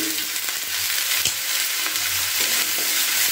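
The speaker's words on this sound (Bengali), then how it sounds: "সমস্ত সবজিগুলোকে আমি কিন্তু ভালো করে ভেজে নেব" Mixed vegetables with salt and turmeric fry in a pan, giving a loud continuous hissing sizzle close up, with a few faint scrapes of stirring underneath.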